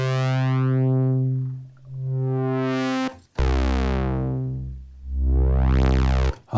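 Behringer UB-Xa synthesizer in 2-pole filter mode without resonance, two long held tones whose filter sweeps down and back up, bright buzzy harmonics fading then returning, loud and alone.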